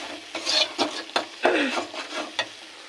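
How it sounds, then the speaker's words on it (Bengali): A spoon stirs biryani masala of ginger, garlic and onion paste frying in hot oil, giving soft rhythmic scraping strokes over a steady low sizzle, close and fairly quiet. "এটা হচ্ছে বিরিয়ানির মশলা কষাচ্ছি"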